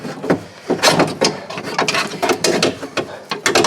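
A loose door latch on a 2001 Ford Sport Trac pickup clicks and rattles in a quick run of sharp, close mechanical knocks, loud and uneven, with no talk over it.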